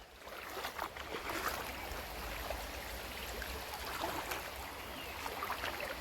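Water rushing steadily along a full irrigation channel on a farm after rain, a continuous close gurgling flow with a low rumble and no voices.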